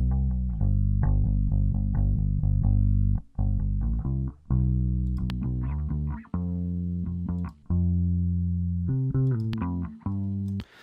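A bass guitar recording played through a Line 6 bass amp lays down a melodic line of deep, separate notes. The notes are loud and close with short gaps between phrases, and there are no voices.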